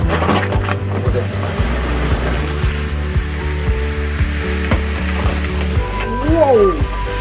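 Butter browning to noisette in a pan for a scallop dish: loud close sizzle with scraping and stirring knocks, a low tonal hum underneath, and a few brief voices in the background.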